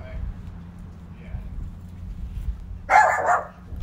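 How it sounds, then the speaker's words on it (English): Dog barks outdoors on a windy day, a short burst of two or three barks near the end over steady wind rumble. "Got vicious guard dog Bella out here."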